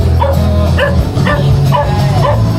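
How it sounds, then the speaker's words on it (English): A pack of wild dogs barks on a night street, several animals yapping and bow-wowing in quick overlapping bursts, loud and close over a steady low background hum. "There's like a pack of wild dogs down here."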